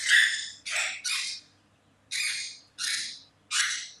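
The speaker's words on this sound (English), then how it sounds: "Dang birds." Pet birds squawk indoors in six loud, harsh calls, close by, grouped in two bursts of three with a short gap between them.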